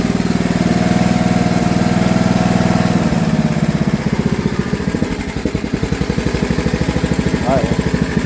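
An engine idles close by with a loud, uneven chugging that shifts into a slower, looser pulsing partway through, and someone speaks over it.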